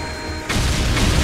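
A detonation device goes off in the arcade shooter Time Crisis 4, a sudden loud blast that comes in after a quieter stretch and rolls on into a sustained, rumbling roar.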